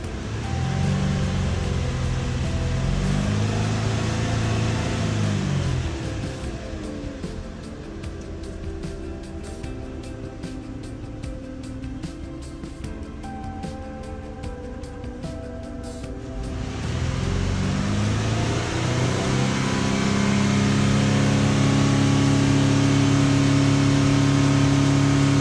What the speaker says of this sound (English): It was a little rough when it started up there, but now I don't really feel a rough idle at all.